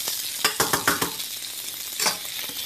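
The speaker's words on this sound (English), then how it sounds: "we'll just let this brown up a little bit more" Seitan browning in a hot pan for sweet and sour seitan, a loud, close, steady sizzle with a quick run of stirring scrapes and clinks early on and another burst a moment later.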